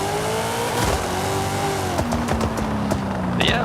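A GMC Typhoon truck engine in Forza Horizon 5 revs hard through gears, a loud droning roar with pitch sweeps and shifts, plus a few sharp clicks and a brief squeal.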